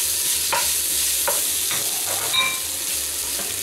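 Ginger and garlic sizzle steadily in a hot pan for lamb curry, with a spatula stirring them at intervals, close and continuous.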